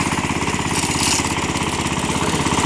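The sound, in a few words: walk-behind tractor engine running while driving in winter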